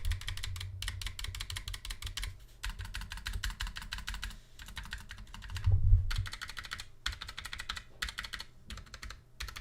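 Rapid typing on a Fnatic Streak65 keyboard whose unlubed switches rattle, a dense, continuous run of close clicky keystrokes with uneven rhythm and no talking.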